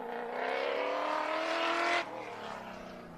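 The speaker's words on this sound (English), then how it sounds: "just listen to that big V8 scream" A Mitsubishi Starion race car with a V8 engine climbs a hillclimb course, its loud engine note rising in pitch as it accelerates toward the listener, then cutting back sharply and fading.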